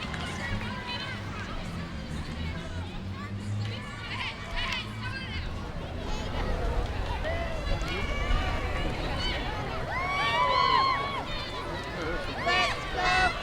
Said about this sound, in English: A decent crowd here at Varsity Stadium in Toronto taking this one in despite the heat